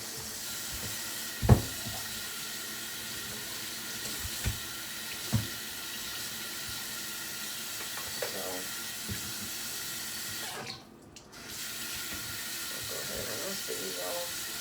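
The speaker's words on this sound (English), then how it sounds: "we'll clean it in the sink. We'll clean that. And rinse them off." Tap water running steadily into a kitchen sink while vegetables are rinsed for gumbo, a continuous hissing stream with occasional clunks and knocks, briefly cutting off near the end.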